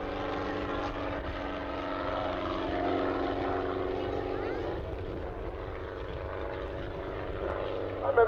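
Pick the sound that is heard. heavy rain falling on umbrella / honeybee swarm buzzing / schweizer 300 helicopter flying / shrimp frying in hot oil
schweizer 300 helicopter flying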